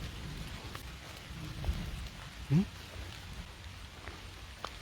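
Steady, faint rain falling over an abandoned village, a continuous soft wash with a brief louder knock partway through and no voices.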